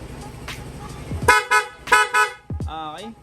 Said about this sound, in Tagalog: Stock na busina.